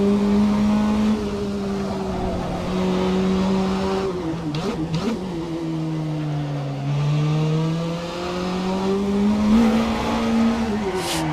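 Racing car in Assetto Corsa, a Formula 3 race, engine whining up and down through gear changes with a brief tyre squeal midway, loud and close with no talk.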